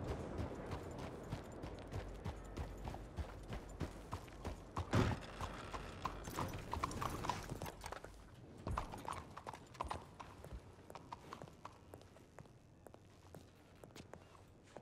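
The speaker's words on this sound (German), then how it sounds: "Hier sind die Pferde." Horses in a stable in the video game Red Dead Redemption 2 make soft, fairly faint hoof clip-clops and shuffling steps over several seconds, with a brief whinny-like sound partway through.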